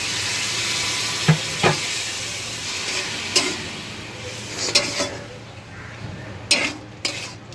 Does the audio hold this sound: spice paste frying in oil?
yes